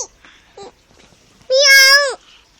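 A young child imitates a cat with one drawn-out, rising then falling meow, clear and close, after a few soft babbled sounds.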